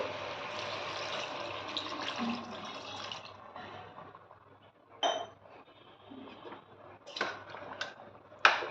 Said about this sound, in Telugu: ఒక గ్లాస్ వాటర్ పోస్తున్నానండి